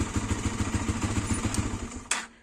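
A Viper MX 200 motorcycle engine runs on partial choke with a steady, fast thumping idle close by. A sharp click or clank sounds near the end before it quiets.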